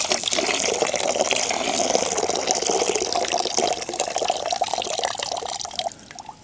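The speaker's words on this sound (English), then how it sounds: "pouring it up high from a distance is going to allow the grounds to settle as well" Hot water is poured from high up into a bush pot of coffee outdoors, a loud continuous splashing gush that runs steadily for several seconds before tapering off.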